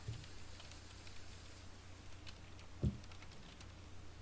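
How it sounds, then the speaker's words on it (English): Keyboard typing on a computer during a Sims-themed podcast recording, quiet soft key clicks scattered over a low background hum, with one slightly louder tap near the end and no talking. "Sorry, I was typing."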